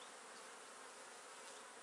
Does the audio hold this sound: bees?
yes